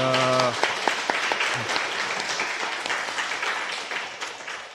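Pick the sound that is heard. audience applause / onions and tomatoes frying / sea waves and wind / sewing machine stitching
audience applause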